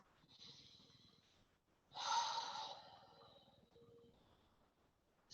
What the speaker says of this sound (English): take a big breath in through your nose, filling your lungs completely, and exhaling out through the mouth